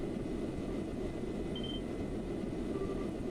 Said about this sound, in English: That's the sound of an airship engine.